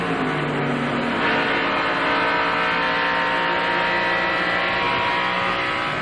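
Onboard engine roar from Mike Skinner's NASCAR stock car running the main straightaway at Indianapolis during the 1996 Brickyard 400, a loud, steady, close high-revving drone that holds at full throttle throughout.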